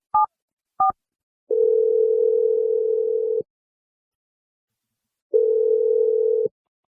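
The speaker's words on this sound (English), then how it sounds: "I'm going to dial his number right now." Telephone dialing and ringback: two short touch-tone beeps, then two long steady ringing tones separated by silence, clear and alone with no voices.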